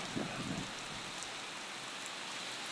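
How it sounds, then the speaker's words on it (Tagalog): Heavy rain pours steadily in a dense, unbroken hiss, with a few low thuds near the start. "Lakas ng ulan mga kamig."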